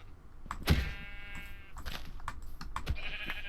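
Sheep in the game Minecraft bleat in a drawn-out, wavering call, followed by scattered clicks and light background noise at moderate volume.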